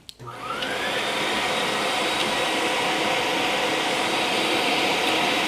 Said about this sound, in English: I'm going to turn on my Record Power cam vac.